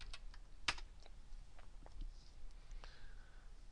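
Computer keyboard keys clatter in a short, sparse burst of typing, faint clicks spread unevenly over a few seconds with one sharper tap early on, alone without speech.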